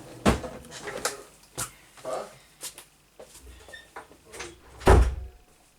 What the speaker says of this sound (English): I'm just going to close that door.